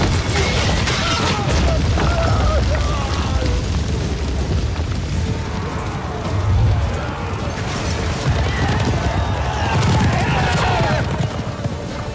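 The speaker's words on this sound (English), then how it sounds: "all building up to this really awesome explosion" Deep, rumbling booms build into a movie-trailer explosion, layered with dense mechanical and percussive sound effects in a loud, continuous mix.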